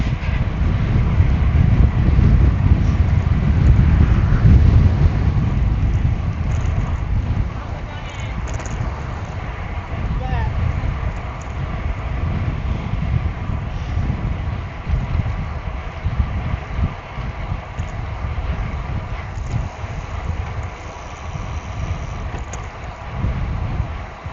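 Strong wind in Okazaki, Japan, roars and buffets the microphone, heaviest at the start and then settling into a gusty rumble that continues throughout.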